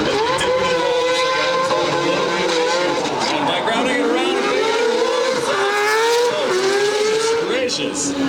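Drift cars slide around the track at an LZ World Tour event in Australia, engines roaring at high revs with shifting pitch and tire squeal, loud and continuous throughout as two cars run in tandem through the power alley.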